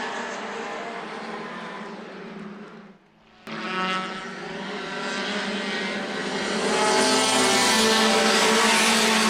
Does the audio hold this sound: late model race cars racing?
yes